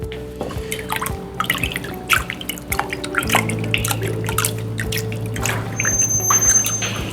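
Water rinses a PCB during toner transfer, with dripping and trickling tap water and irregular splashes, then a steadier flow under a faint background hum.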